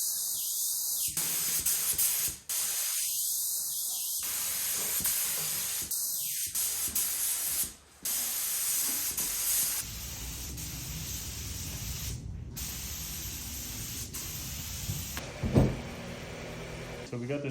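A turquoise base coat is spray painted in repeated bursts, each a loud close hiss broken by short pauses, followed by a longer steady spray with light handling noise.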